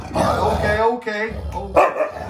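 A husky guarding a puppy lets out close, harsh growls and short barks in quick bursts, with a person speaking briefly over the sounds.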